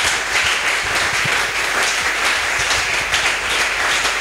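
Loud, steady applause from a French-speaking church congregation clapping in acclamation to God, a thick continuous roar of hands close by with no voices.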